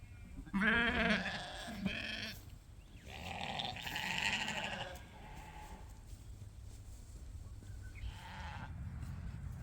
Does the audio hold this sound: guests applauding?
no